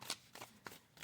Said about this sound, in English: So give me a moment as I shuffle the cards.